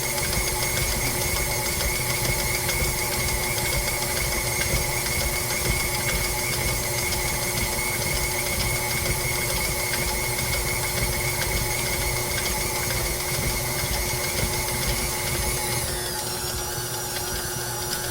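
A KitchenAid stand mixer runs steadily, kneading sticky, elastic baguette dough, with a loud continuous motor whine and rhythmic churning that holds throughout and shifts slightly in pitch near the end.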